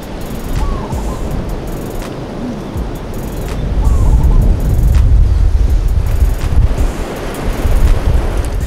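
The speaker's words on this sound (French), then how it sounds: "il y a vraiment beaucoup de vent" Strong wind buffeting the microphone over crashing surf at a long, wide Hawaiian beach, with low rumbling gusts that swell louder midway and stay heavy and close, alongside the roar of waves.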